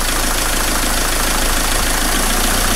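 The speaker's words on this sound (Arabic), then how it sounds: "شفت الموتور حسه كيف تغير" A diesel car engine idles after its injectors were cleaned with Wynn's, a loud, steady, rough rumble with a fast knocking pulse that runs unbroken throughout.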